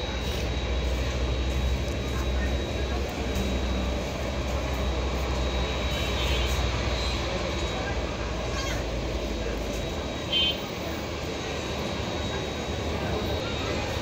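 An airplane slowly taxis onto the runway at a plane-watching spot by Baunia Bottola, giving a steady, distant engine drone that stays even throughout.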